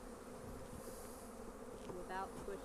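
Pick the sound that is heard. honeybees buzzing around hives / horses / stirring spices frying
honeybees buzzing around hives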